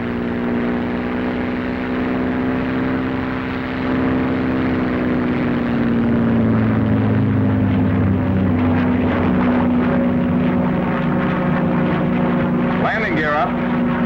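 Steady propeller drone of a P-51 Mustang warbird engine at takeoff power, loud and continuous with strong low harmonics that shift slightly in pitch, while someone narrates over it.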